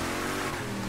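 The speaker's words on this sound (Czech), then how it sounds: "Celou hru prší." Rain pours steadily in the Mafia III Definitive Edition city, a dense, even wash of falling water filling the whole short moment with no break and no voices.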